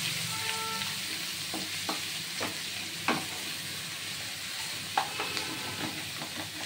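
Ginger, onion and garlic paste sizzles steadily in hot oil for a Bengali chicken jhol, with a close, continuous hiss broken by occasional clinks and scrapes from stirring.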